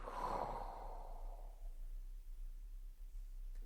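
A long, breathy exhale during a breathing exercise in a nervous-system class, loud at the start and fading over about a second and a half into quiet.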